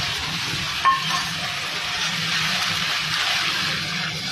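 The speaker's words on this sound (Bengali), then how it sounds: "এইবার যে সসটা বানিয়েছিলাম, এইটা পুরোটা ঢেলে দেবে।" Sauce is poured into a pan of frying ginger and garlic, giving a steady hissing sizzle with a faint clink near the start, close and continuous with no voices.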